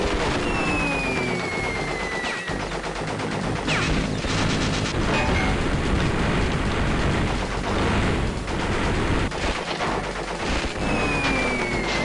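Rapid gunfire rattles on without a break in Crash Bandicoot: Warped, loud bursts packed close together with sharp cracks and mechanical clatter through the whole stretch.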